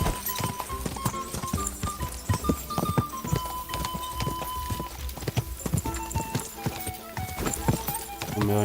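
A horse in Kingdom Come: Deliverance 2 gallops, quick rhythmic hoofbeats close and clear, with a voice now and then over the pounding.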